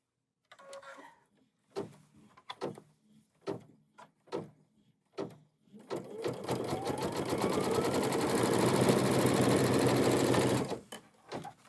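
A sewing machine stitches a quilt block held in an embroidery hoop, starting with several short separate clicks and thumps, then running as a loud, steady mechanical whir for about five seconds before stopping.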